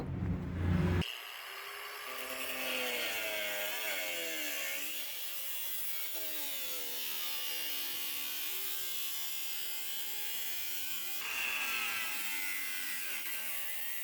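A power saw cuts into the rusted-out cab corner sheet metal of a Ford King Ranch pickup truck, a steady rasping grind held for over ten seconds after a louder burst at the start, with no talking.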